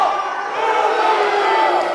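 A loud wrestling arena crowd roars and shouts continuously at a Beantown Brawl event, a dense, steady wall of cheering and yelling with no clear single voice.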